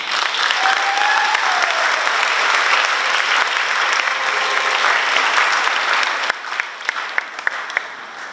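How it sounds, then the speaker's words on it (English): A large crowd at a high school graduation ceremony for the class of 2025 claps in a sustained, dense round of applause that thins toward the end into a few scattered claps. "Let us give her another round of applause, please."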